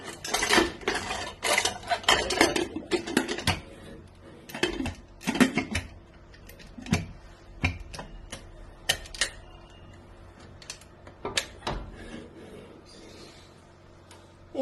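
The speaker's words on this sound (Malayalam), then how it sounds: "ഇനി നമുക്കിത് കുക്കർ ക്ലോസ് ചെയ്യാം" A pressure cooker holding mutton head curry is shut, with a run of metallic clanks, clicks and taps from the lid and pot, busy at first and then thinning to occasional knocks.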